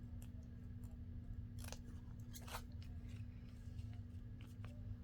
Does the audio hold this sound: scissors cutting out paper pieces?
yes